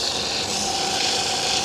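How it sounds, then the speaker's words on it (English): Sandpaper pressed against a spinning wooden bowl on a Shopsmith lathe makes a steady, continuous rasping hiss at close range, with no pauses and no voices. "Start sanding, coarse, medium, fine, super fine."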